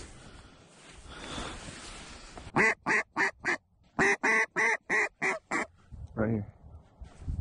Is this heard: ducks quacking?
yes